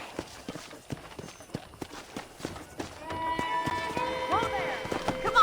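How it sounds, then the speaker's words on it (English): Horse hooves clip-clopping in Red Dead Redemption, a steady run of hoof beats with in-game music swelling partway through. "let's see if you can still ride a horse"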